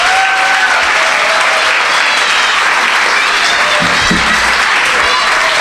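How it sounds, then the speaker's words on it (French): A concert audience gives the musicians loud, continuous applause, a thick, close roar of many hands clapping steadily throughout, joined near the end by a brief low rumble. "Je crois que les musiciens méritent une grande main d'applaudissements."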